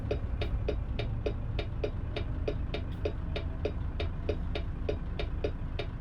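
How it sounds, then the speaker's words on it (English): A steady, fast ticking of a truck turn signal in American Truck Simulator, evenly spaced clicks repeating about three times a second over a low engine hum. "These blinkers are fast in this truck."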